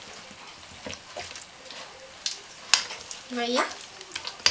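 Olives being mixed by hand into a smooth mortadella meat paste: soft, wet squelching and scraping strokes at an uneven pace, close up and fairly quiet, with a brief voice speaking over them.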